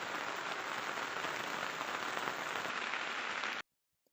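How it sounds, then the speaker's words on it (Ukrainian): Steady rain falling outside a greenhouse, a dense, even hiss of drops on surfaces that continues unbroken and fairly loud, then cuts off abruptly near the end. "Поки на вулиці дощ, працюю в теплиці."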